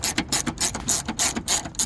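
A ratchet works loose the mounting bolts of a windshield wiper motor on a 2003–2007 Honda Accord or Civic, with loud, close, rhythmic clicking strokes repeating about every quarter second.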